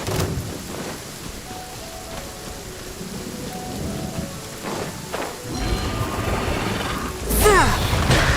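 Steady rain falls in Genshin Impact with a low rumble of thunder building underneath, then a bright swelling burst near the end; a few game tones ring faintly over the downpour.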